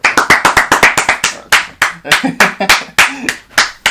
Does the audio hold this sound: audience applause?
yes